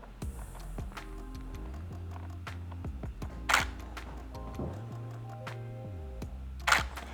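A single-lens reflex camera shutter clicks repeatedly during an indoor boudoir photo session, crisp close snaps coming in uneven bursts with quiet pauses between, nearly alone with little talk.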